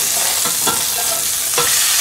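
Seasoned steaks searing in a hot pan, a loud close steady sizzle with a few sharper spits and bursts as pieces settle, heard alone.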